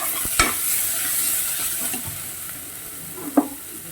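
Gentle, steady sizzle of food sautéing over low heat in a pan, with a few scraping clinks of a utensil stirring now and then.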